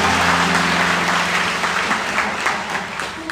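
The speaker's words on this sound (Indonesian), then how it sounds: "berikan tepuk tangan yang meriah buat Tuhan" A church congregation claps loudly and warmly for God during a worship service, a dense, sustained roar of applause that fades slightly toward the end.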